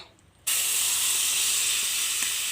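Lentil paste dropped into hot oil in a wok bursts into a loud, steady hiss and sizzle after a brief quiet moment, continuing without a break.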